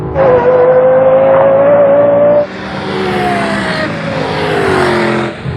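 A loud Lexus LFA engine screams up through the revs during a drag race, then shifts and climbs again with a lower, rougher roar as it pulls away.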